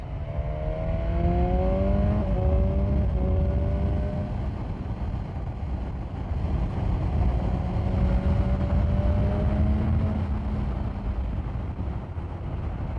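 A BMW S1000R motorcycle rides through bends at night, its engine droning steadily with rising and falling pitch as the revs shift through the curves, loud and close over constant wind rush.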